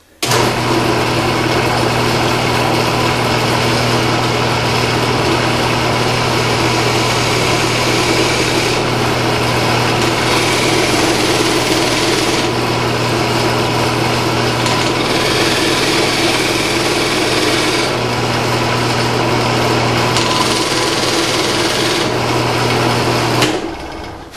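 A power tool runs continuously at high speed while cutting a bevel on a trumpet pipe, a steady loud whine with a constant low hum underneath and slight shifts in pitch as the cut progresses, with no one speaking.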